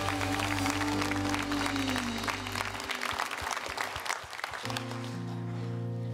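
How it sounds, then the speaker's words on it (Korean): Church congregation applauding in praise during a Korean worship service, a dense sustained clapping with a steady organ or keyboard chord held underneath, continuing at even strength throughout. "하나님께 다시 한번 감사의 박수 올려드립니다"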